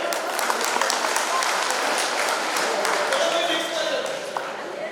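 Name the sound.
loud applause for a customer coming on stage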